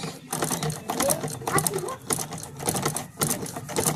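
A sewing machine stitches in quick rattling bursts with brief pauses between runs, close and fairly loud, while a voice talks over it.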